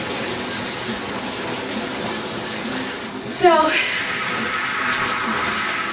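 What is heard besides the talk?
shower water running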